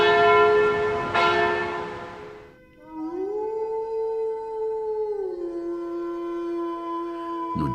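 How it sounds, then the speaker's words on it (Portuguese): A long, eerie howl rises and holds steadily over a fading bell ring, sustained for several seconds in an otherwise quiet scene. "Um uivo macabro e depois um silêncio assustador"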